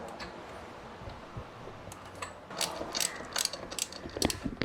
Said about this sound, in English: So we have a bolt that will join that tab to the side of the fuel pump there.